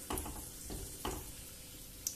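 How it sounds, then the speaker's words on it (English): Cashew nuts frying lightly in hot oil, a soft close sizzle with a few brief bursts of crackle and spatter, no voices. "To the hot oil, I'll add in the cashew nuts and fry them lightly."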